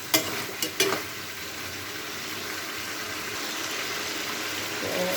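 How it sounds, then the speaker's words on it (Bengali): Water poured into a pan of frying chicken on the stove, with a few sharp clinks of utensils at the start before a steady, loud sizzle and bubbling that keeps going to the end. "এই যে পানি দিলাম"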